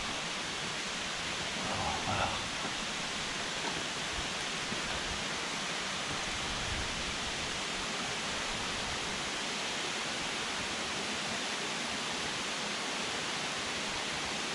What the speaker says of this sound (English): when you reach the waterfall